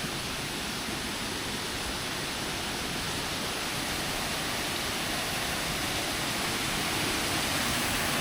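Huay Sin Chai waterfall at Khong Chiam, Ubon Ratchathani, water pouring into a pool and down as if into a hole, gives a steady, dense broadband roar that holds unchanged throughout, with no voices.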